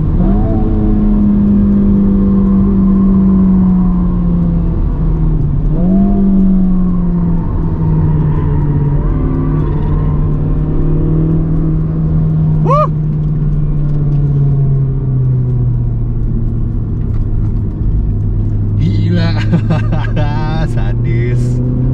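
Honda Civic Type R engine revving hard on the Mandalika race circuit, a loud, continuous close-up drone that rises and falls with gear changes and throttle blips, with a brief higher whine near the end.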